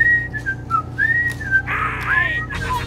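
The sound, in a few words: person whistling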